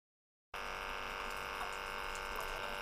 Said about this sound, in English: So now we'll see if it sprays with the nozzle out.